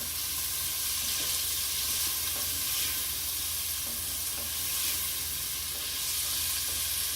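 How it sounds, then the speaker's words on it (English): Onion, celery and carrots sautéing in a pot make a steady, dense sizzle and crackle throughout, with faint stirring scrapes occasionally rising from the continuous frying hiss; no voices. "you're going to stir this around for 1 or 2 minutes until the onion gets a little bit translucent."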